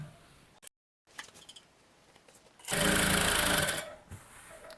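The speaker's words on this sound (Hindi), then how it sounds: "इसके ऊपर हमें प्रेस सिलाई देनी है" A sewing machine stitches a salwar kurti, quiet handling and a brief pause giving way to a loud, continuous whirring run of rapid stitching for about one and a half seconds before slowing to a stop, close up.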